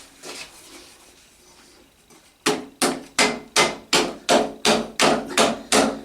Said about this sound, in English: there's a big hammer somewhere to knock that up